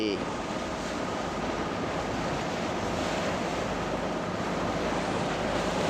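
Surf and boat wake washing in at Boynton Beach, Florida, as boats like Lady K and Sea Mystery pass offshore; a steady, loud broadband wash with wind rumble on the microphone throughout.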